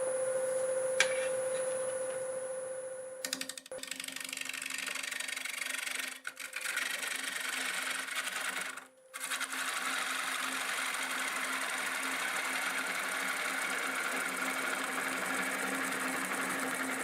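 A wood lathe turning a craft-show gift piece at about 725 RPM gives a steady, continuous motor whir with a low hum, broken by brief dips near the middle.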